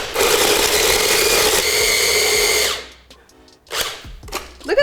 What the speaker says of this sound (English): this is my preferred way to grate parm because it makes like the perfect little tiny baby beads